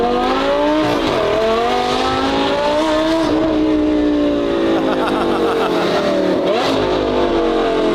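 A sports car with its exhaust valves open, accelerating hard on the road, loud and close, climbing through the revs with several gear shifts and a steady roar throughout.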